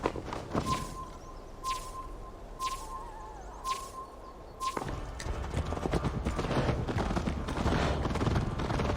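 Horse hooves galloping in Assassin's Creed Valhalla, a rapid rhythmic clip-clop that starts with a few spaced thuds and then builds into a dense, steady drumming of hoofbeats, close and loud.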